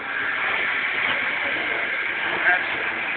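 Pumpkin cannon running on auxiliary fuel cell number one gives off a continuous, fairly loud rushing hiss that holds steady for the full few seconds, with a slight swell near the end.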